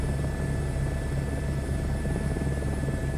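Steady simulated H125 helicopter rotor and turbine drone in a flight sim, a continuous loud whir with low rhythmic blade thump and a high whine, no talking over it.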